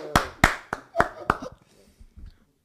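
A congregation claps to acclaim the Lord in a few sharp, loud claps spaced irregularly, thinning into softer scattered taps before fading out.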